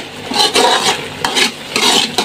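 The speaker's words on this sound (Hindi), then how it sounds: "आपने ना चम्मच इसमें बिल्कुल नहीं रोकना है" A spoon stirs a sugary Indian barfi mixture in a pan over a high flame, with loud, close scraping and sizzling strokes repeating continuously.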